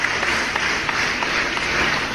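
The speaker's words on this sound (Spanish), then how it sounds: "vamos a aplaudirnos a nosotros mismos primero" Dense applause fills a morning show studio continuously, a steady wash of many hands clapping without pause.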